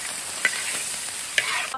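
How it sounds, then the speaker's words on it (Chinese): Duck pieces stir-frying in a wok, a steady close sizzle of hot oil with two sharp scrapes of the spatula against the pan. "把鸭子炒上，炒香。"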